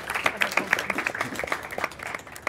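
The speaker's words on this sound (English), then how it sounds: "let me clap to thank those of you here who are doing it." Clapping at a reception keynote event, a crowd of many hands applauding densely and continuously over the short span at moderate loudness.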